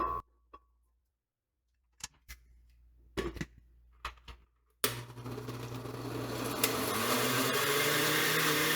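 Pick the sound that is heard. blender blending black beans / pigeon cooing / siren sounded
blender blending black beans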